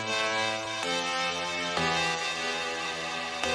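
Basic synth chords from a Serum preset out of the Insanity in Space chord pack for slap house, sustained layered chords changing about every second, clean and alone.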